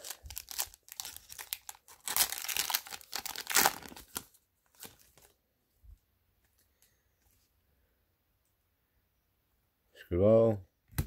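A foil pack of Bowman baseball cards is torn open and crinkled, with bursts of crinkling and tearing near the mic among breathy noises. Quiet stretches follow, then a short loud rasp near the end.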